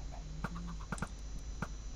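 Minecraft chickens clucking in short scattered bursts, several quick clucks close together over a steady low background hum, fairly faint.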